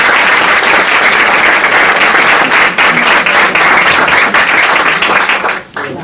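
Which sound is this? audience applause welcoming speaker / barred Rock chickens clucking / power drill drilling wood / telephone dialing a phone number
audience applause welcoming speaker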